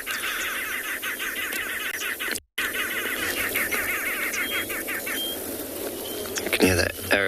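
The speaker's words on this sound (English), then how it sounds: "You can hear that arrow-marked babblers in the background." A group of arrow-marked babblers chattering at dawn in the wild, a continuous rolling babble of harsh repeated calls at moderate distance, briefly cut off once, then growing louder toward the end.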